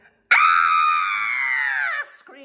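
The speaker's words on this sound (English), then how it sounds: ""Ah!" screamed the fisherman, dropping his heavy net into the waves." A single long, loud scream of a fisherman in a story, rising sharply and holding steady for nearly two seconds before cutting off into a short trailing vocal sound.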